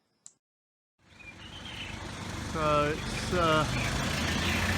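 A truck's engine rumble swells in after a brief click, growing louder and droning steadily as it passes, with a voice speaking over the traffic noise.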